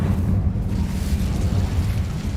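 A continuous roaring fire blast from the Incendio spell in a Harry Potter video game, loud and dense with a steady low rumble and crackle throughout, without any voices.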